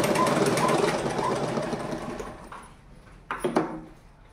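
A sewing machine stitching uniform shorts, with a rapid mechanical whirr that fades after about two seconds, followed by a few short bursts of stitching.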